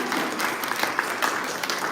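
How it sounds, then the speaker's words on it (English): Brief, even applause from a university audience at a live event, a steady wash of many hands clapping at moderate distance with no pauses. "You can clap"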